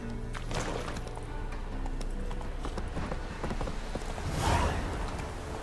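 Horse hooves galloping in The Witcher 3: a steady, rhythmic clip-clop of hooves at close range, continuing throughout with creaks of tack and a brief surge of noise near the end.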